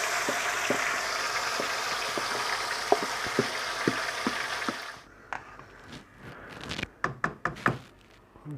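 Chicken pieces are added bit by bit into a hot karahi for chicken jalfrezi, with a steady sizzle and knocks from the first few seconds, then the frying fades and sharp clacks and thunks of stirring follow.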